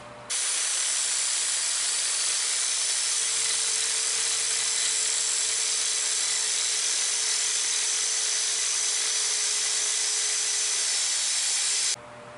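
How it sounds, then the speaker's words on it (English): An angle grinder shapes the point of a steel knife blade, making a steady, loud, continuous high whine and hiss that runs unbroken for about twelve seconds before stopping abruptly. "We're making some good progress with the angle grinder on getting that point shaped"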